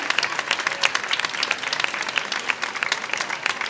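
Audience applause at a patron saint festival proclamation in La Ribera de Molina as a commemorative plaque is presented, a sustained crowd of hands clapping, dense and even throughout.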